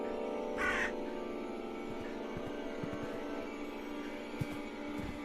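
Crows cawing in The Last Door horror game, a few harsh calls over a steady droning ambient hum with faint scattered clicks and shuffles.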